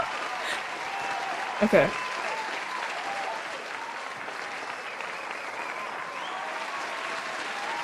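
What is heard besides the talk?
applause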